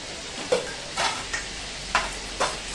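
Butter melts in a hot pan for pav bhaji, a soft steady sizzle broken by five short scraping stirs spaced about half a second apart.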